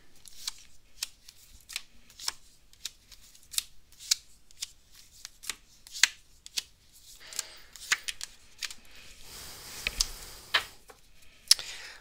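Tarot cards handled and shuffled up close give soft, scattered taps and flicks, then a brief papery riffle toward the end, quiet and with no speech.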